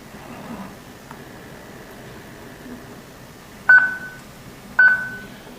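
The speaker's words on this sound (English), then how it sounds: "When you hear the voice, two beeps, and the red indicator light flashing, it means waiting for Wi-Fi connection." Startup beeps from a wireless auto-tracking pan-tilt camera as it waits for a Wi-Fi connection. Two sharp, close beeps about a second apart follow a faint tone over quiet room noise.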